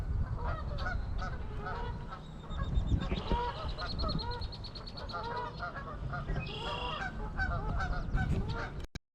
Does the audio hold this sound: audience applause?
no